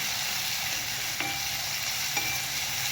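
Chopped tomatoes land in a hot frying pan of oil and chopped onions for a dhaba-style cashew masala gravy, giving a steady, fairly loud sizzle throughout with two brief utensil clicks.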